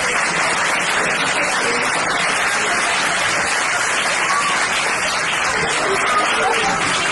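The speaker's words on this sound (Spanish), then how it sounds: "Un aplauso para Marcos Vilipich." Crowd applause for a speaker at a TEDx event at a school, steady and dense clapping from a hall audience lasting about seven seconds without speech.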